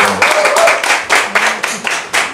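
A small talk-show audience applauds in a short burst of distinct, uneven hand claps, close and fairly loud, without voices.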